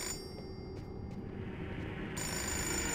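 Telephone ringing in the video game Fahrenheit: Indigo Prophecy, faint ringing pulses over a steady low background that swell into a louder, brighter ring toward the end.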